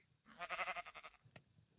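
Sheep in the video game PolyCraft bleats once, a single wavering quavering call lasting about a second, fairly faint and close, followed by a short soft click.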